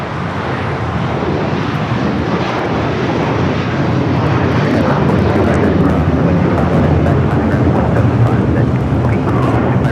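A United Airlines Boeing 757-300 is taking off at Los Angeles airport, bound for Honolulu. Its engines build into a loud, broad roar that holds steady and swells slightly over the ten seconds.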